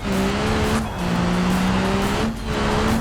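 A Maruti Swift driven at very high speed, its engine holding a strained drone with a couple of brief shifts in pitch, loud and close.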